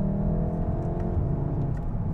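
A 2019 Mk7.5 Volkswagen Golf engine, R or GTI Performance, pulls steadily under throttle, a loud sustained low rumble and whir heard from inside the car with no talk.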